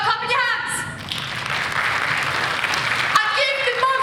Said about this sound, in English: Stop clapping your hands.